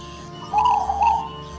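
A single soft cooing call from a zebra dove (perkutut) with its characteristic long "kung", two gentle tonal notes, close and clear against a quiet background.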